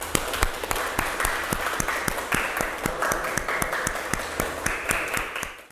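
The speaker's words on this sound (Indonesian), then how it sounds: "Mari kita kasih aplaus untuk kita semua." A classroom group gives a round of applause, a steady stretch of dense clapping that holds evenly for several seconds before tapering off at the end.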